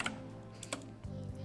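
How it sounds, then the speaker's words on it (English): A brief burst of keyboard typing on a computer while a search is entered in a browser tab, a few soft clicking keystrokes close up with a low hum underneath and no speech. "In the search bar, I'm going to type today's weather."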